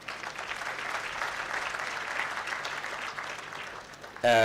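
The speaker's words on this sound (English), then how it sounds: "Parents, a round of applause for them." Audience applause for graduates at a commencement ceremony, a sustained broad patter of many clapping hands that holds steady before a sudden louder burst at the very end.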